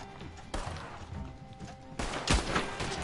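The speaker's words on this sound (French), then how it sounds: "Il y a un mec au minigun et il y en a un en sniper" Gunfire from a minigun and a sniper rifle in the video game Red Dead Redemption 2, with scattered shots and a sharp, loud blast near the end over background game noise.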